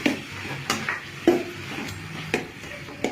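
Chili powder for a tomato sambar is sautéed in a pan, with a spoon scraping and tapping the pan in a few distinct strokes over a faint background.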